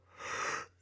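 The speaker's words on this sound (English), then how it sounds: "Yawn," A cartoon sloth gives a single breathy yawn, a soft airy exhale swelling and fading within a second, faint and alone.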